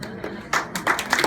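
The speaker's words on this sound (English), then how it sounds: "Applause if I continue, don't applaud if I just let that die." Scattered audience applause at a stand-up comedy show: a short, uneven patter of claps that swells briefly near the end, mixed with some crowd voices.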